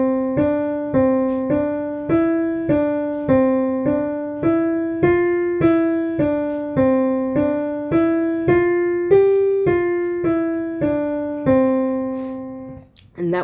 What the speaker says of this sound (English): So the additive pentatonic scale sounds like this.